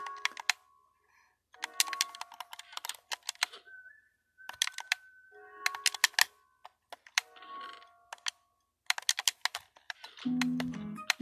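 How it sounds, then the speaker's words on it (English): Rapid computer mouse clicking during a Minecraft session on the Cubecraft server, sharp close clicks in dense bursts separated by short pauses, with a brief low sound near the end. "This is how you double click on the wall. Make a loud noise. Very loud."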